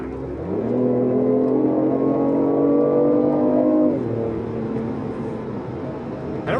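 BMW i8 pulling away with its Active Sound Design engine tone, a loud, close drone with rising harmonics that climb steadily and then drop as it eases off, a thin electric motor whine running underneath.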